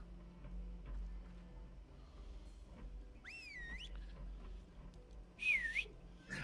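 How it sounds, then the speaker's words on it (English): A fingers-in-mouth style whistle summons a mount in a samurai video game: a bright rising, wavering whistle, then a second shorter, louder one a moment later over a low ambient bed. "it sounds just like we've stuck our fingers in our mouth and whistled"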